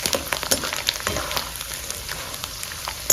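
Sabudana and potato snacks deep frying in oil over a high flame, giving a steady crackling sizzle with scattered pops, fairly close and alone with no talking.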